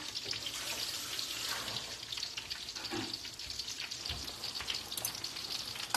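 Shrimp egg foo young patties fry in a pan with a lively, crackling sizzle, popping bursts riding over a constant bubbling hiss, close and fairly loud with no talking.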